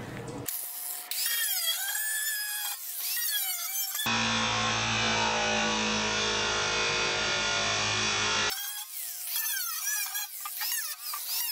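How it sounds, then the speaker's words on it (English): An angle grinder cuts a square out of the bottom of a rusty steel barrel, a loud, steady, harsh whine lasting about four seconds between stretches of other sound. "which I'll then cut out with the grinder."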